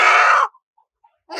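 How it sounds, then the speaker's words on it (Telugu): A Tamil Nadu breed rooster at a farm selling country chickens lets out one loud, harsh half-second call close by. Near-silence follows, and a second call begins at the very end. "ఇవన్నీ తమిళనాడు పుంజు సార్"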